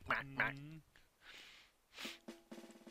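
Cartoonish duck quacks from the Mario Party 64 video game, a couple of short nasal bursts at the start and again near the end, mixed with breathy noise and brief voice-like sounds.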